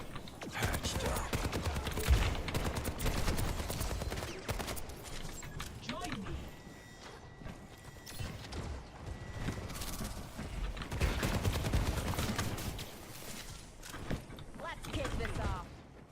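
Gunfire in an Overwatch 2 match, aimed at the player, comes as dense rapid bursts and clatter through most of the stretch, with mechanical clicks and pauses between volleys while a player talks over it.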